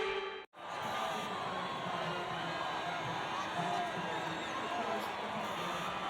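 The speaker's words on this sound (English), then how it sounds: "the crowd is horrifically loud in my ears" Loud, steady crowd roar from a Formula 1 racing video game fills the whole stretch, broken only by a brief dropout near the start, with faint voices mixed into the din.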